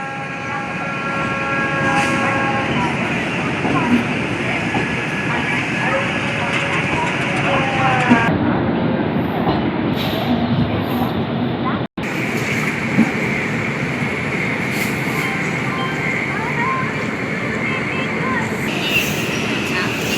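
Trains, including the Alleppey–Bokaro Express and a Vande Bharat, rumble steadily at a busy Indian railway station, with a constant mechanical roar and people talking in the background.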